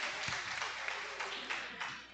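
A faint wash of audience applause at a panel event on diversity in academia, corporate settings and media, brief and soft, heard from a distance with a few louder claps standing out.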